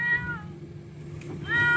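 A cat stranded on an electricity pole meows twice, a clear plaintive cry at the start and another at the end, with a low steady hum in between and no talking.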